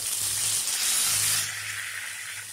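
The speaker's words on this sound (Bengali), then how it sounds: "এর মধ্যে আমরা এখন একটা পেস্ট দিয়ে দিচ্ছি।" A paste of ground onion, tomato, ginger and garlic drops into hot oil tempered with whole spices and sizzles with a loud, bright hiss that eases off after a second or so.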